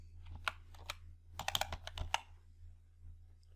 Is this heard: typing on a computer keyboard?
yes